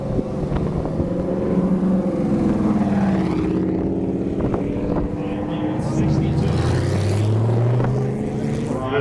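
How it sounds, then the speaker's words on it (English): A GT race car pulls in at the Mojave Mile runway speed event, its engine droning and shifting in pitch while someone talks over it. "This car just pulling in here just turned in a time of"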